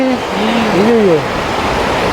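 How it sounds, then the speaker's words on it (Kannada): Water rushes steadily past a newly built dam in Ooty in winter, a constant broadband roar that fills the scene while a voice talks over it. "ನೀರು ಹರಿತಾ ಇದೆ"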